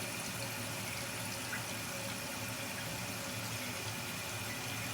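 Water rushes steadily into a toilet tank as it refills after a new flapper is fitted, a constant hissing flow with no pauses, close and fairly quiet.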